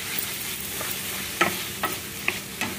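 Egg noodles with a spoonful of soy sauce stirred in a hot pan, a steady low sizzle broken by four distinct scraping strokes of the spoon, close and alone.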